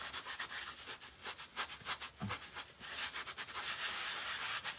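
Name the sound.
rubbing mixture into fabric by hand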